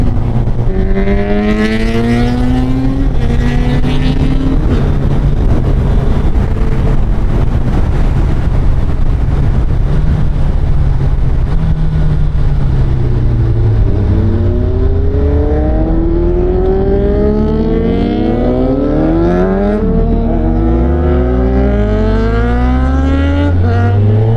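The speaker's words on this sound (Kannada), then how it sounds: "ನಿಮ್ಗೆ ಆಲ್ರೆಡಿ ಕ್ವಿಕ್ ಶಿಫ್ಟ್ ಗಾಡಿ ಸೌಂಡ್ ಕೇಳಿಸ್ತಾ ಇರ್ಬೋದು" Suzuki Hayabusa motorcycle engine with a quickshifter, loud and continuous with rising revs and repeated quick gear changes, under heavy wind rush while riding.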